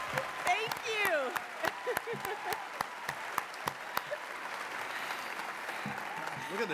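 A crowd at a live teacher-tribute show keeps clapping and cheering in a thick wash of applause, sharp claps popping through while someone talks over the noise early on.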